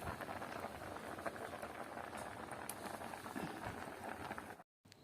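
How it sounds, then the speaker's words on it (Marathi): Lentils boil in a pot on a traditional wood-fired clay stove, a steady close bubbling and popping patter that continues throughout before cutting out briefly near the end. "आता आपल्या डाळीला मस्त असा उकळ आलेला आहे"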